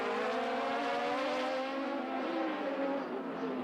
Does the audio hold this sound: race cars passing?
yes